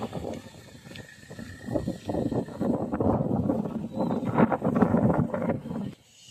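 Strong coastal wind at Gokarna roars and buffets the microphone in uneven gusts, a dense rushing noise that swells and fades before dropping away near the end.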